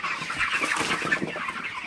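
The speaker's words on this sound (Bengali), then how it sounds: "তো আপনারা দেখতে পাচ্ছেন আমার ব্রয়লার মুরগিগুলো" Broiler chickens, 34 days old, clucking in a poultry shed in the early morning: a dense, continuous chorus of many birds murmuring and chattering together, steady and fairly close, with no talk over it.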